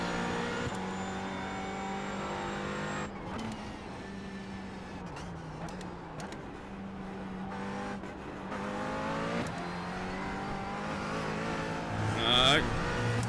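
A McLaren GT4 race car engine drones steadily on the Nürburgring circuit in a racing sim, with pitch rising and dropping through shifts and braking. Someone talks over it throughout, and a brief beeping tone comes near the end.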